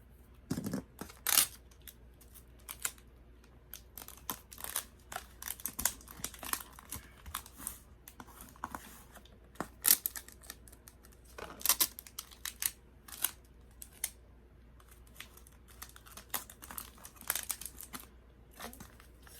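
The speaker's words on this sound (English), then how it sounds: "What I'm doing is taping down that side." Packing tape is pulled and pressed onto a cardboard box for a guitar shipment, giving repeated crackly rips and crinkles in short bursts at close range, with no talking.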